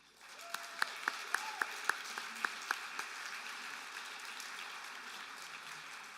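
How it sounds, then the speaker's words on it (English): Audience at a college awards celebration applauding the MC, a steady, moderately distant round of clapping with a few sharper claps standing out early on before it settles into an even wash. "can we get a round of applause for our MC, Chris May?"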